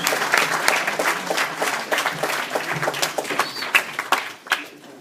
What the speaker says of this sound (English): An applause for Varun.